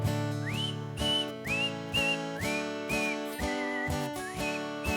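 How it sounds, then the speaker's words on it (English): A person whistles a short repeated phrase of rising, sliding notes, close and clear, over a rhythmic musical backing with steady beats. "Great whistling, thank you."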